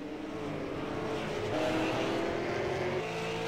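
SARA race cars run laps at the Las Vegas Bullring, their engines droning as a steady, dense roar through turns 3 and 4, with a slight swell midway as the pack passes nearer.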